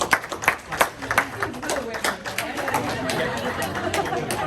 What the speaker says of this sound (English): give a round of applause to the ones who put in the effort ahead of time